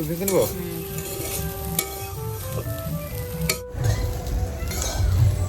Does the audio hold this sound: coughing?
no